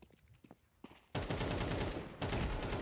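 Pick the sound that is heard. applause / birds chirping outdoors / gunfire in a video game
gunfire in a video game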